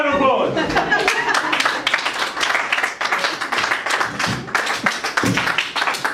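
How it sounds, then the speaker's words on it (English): Applause from a small comedy-gig audience, with scattered, uneven hand claps rising and falling around a voice that speaks over much of the clapping. "Give yourself a round of applause."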